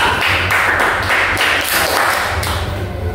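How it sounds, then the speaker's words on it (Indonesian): Applause for a student group in a school classroom, a dense, steady wash of many hands clapping together, loud and close, lasting throughout. "Untuk itu, Bapak persilakan dengan tepuk tangan yang meriah"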